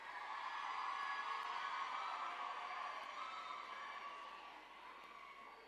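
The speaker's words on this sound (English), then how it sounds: "A round of applause for the premier of the province." Crowd of learners and community members applauding and cheering for the Premier of Gauteng at a secondary school handover in Kagiso, a steady dense roar of clapping and voices that holds throughout and eases slightly toward the end.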